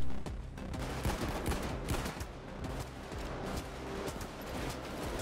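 Sniper gunfire in the video game Payday 2 during a big bank heist, with repeated sharp shots and bursts cracking over a dense, busy background of game noise, fairly continuous with no talk.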